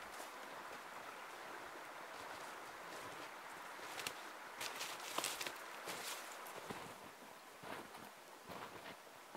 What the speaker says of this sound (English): Only this small river runs somewhere with noise.